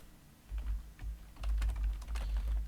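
Fingers tap out a command on a computer keyboard in a GNS3 network lab, a quick, close run of light key clicks in irregular bursts with no talking.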